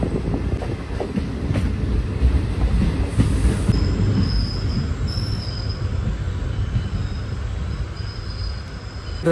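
A train rumbles steadily along the rails nearby between Pollachi and Palakkad, its wheels letting out thin, high squeals over the continuous heavy rolling noise.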